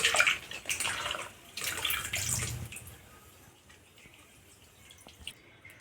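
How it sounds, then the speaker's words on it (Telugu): Water is poured over squeezed bitter gourd pieces in a bowl, splashing in a few close bursts at first, then settling into faint drips and light handling sounds. "ఒకసారి వాటర్ వేసి నీట్గా కడుక్కుందాం, చేదు అనేది పోతుంది"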